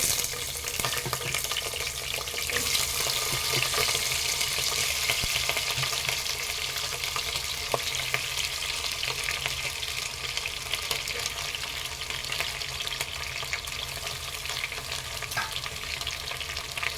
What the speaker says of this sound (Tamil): இப்போ இந்த நேரத்தில் நம்ம வெட்டி வச்சுருக்கிற உருளைக்கிழங்கு ஆட் பண்ணிக்கலாம்